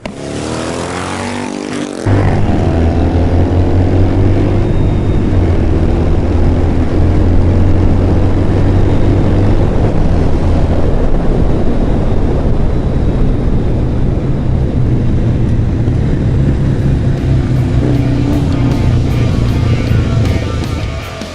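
A Harley-Davidson Sportster 883L motorcycle accelerates hard, its loud, close engine droning and climbing through the revs toward the rev limiter, continuous and alone for about twenty seconds.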